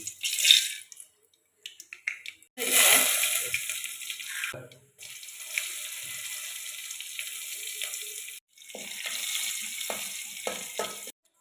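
Bursts of crackling and popping from mustard seeds frying in hot coconut oil, coming in several loud spurts separated by brief quiet gaps.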